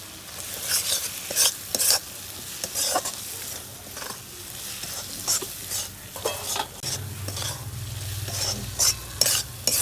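Masala is stir-fried in a pan with a few slit green chillies. Close, repeated scraping strokes of a spatula cut through a constant sizzle in an uneven rhythm, and no voices are heard.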